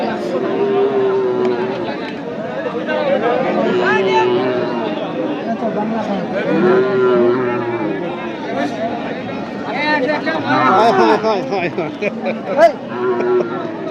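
Cattle moo several times at a village cattle market, their low calls rising over a busy crowd chatter and nearby talking that runs throughout.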